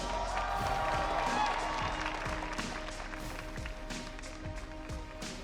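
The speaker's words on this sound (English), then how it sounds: "One more time, round of applause." An esports tournament crowd applauds steadily, many hands clapping together at close range, with the clapping gradually tapering off toward the end.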